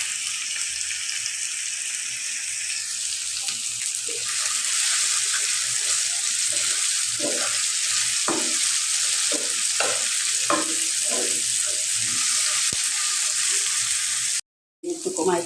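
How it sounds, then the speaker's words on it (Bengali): Egg, vegetable and chicken ludus cooks covered on a gas stove turned low, with a continuous soft sizzle and a series of faint irregular taps and pops, ending in a brief cut of silence. "এইদিকে এই যে আরেক চুলার মধ্যে আমার লুডুসটা হইতেছে, আমি ঢাকে দিয়ে গ্যাসটা কমায় রাখছি"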